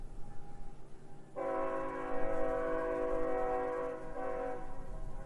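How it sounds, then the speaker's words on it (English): A train led by three engines, pulling two cars, passes while its horn blasts loudly for several seconds, with a brief break before it sounds again, over a rumble of rolling wheels and no speech. "Train. 3 engines and 2 cars."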